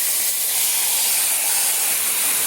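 Boiled taro greens land in a pan of frying spices including ground coriander, giving a steady, loud broadband sizzle and hiss that holds evenly throughout without any talk.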